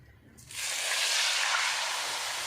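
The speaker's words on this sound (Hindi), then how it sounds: "अब हम इसमें पानी ऐड कर देंगे।" A sudden loud hiss and sizzle bursts out after a brief quiet moment as water is poured onto roasted vermicelli in a hot pan, then keeps up as a steady, close, bright sizzling.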